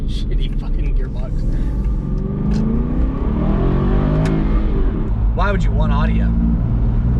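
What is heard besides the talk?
sports car exhaust revving on mountain road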